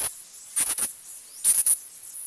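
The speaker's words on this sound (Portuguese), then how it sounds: "não é tão fácil ouvir o canto do beija-flor preto de cauda branca" High-pitched song of the black hummingbird with white tail, thin insect-like buzzy bursts: one short note, then a paired cluster, then another pair, faint against a quiet background.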